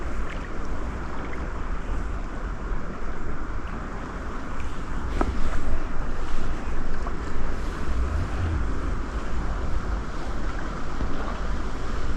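Strong river current at a fishing spot, a stretch that is not as fast as a mountain stream, rushes steadily throughout, with wind buffeting the microphone and no voices.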